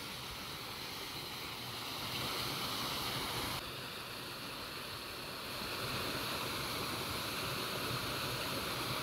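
A waterfall and river pour steadily in a natural ravine at Quebrada Honda near Joyabaj, Quiché, a dense, continuous rushing wash of water with no voices, surging slightly louder partway through.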